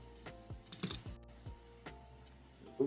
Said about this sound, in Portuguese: E eu vou digitar aqui.